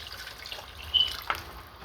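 Water poured into a pot of jerk pumpkin rice with coconut milk, a faint soft splash and trickle with a couple of small drips, quiet over background hiss.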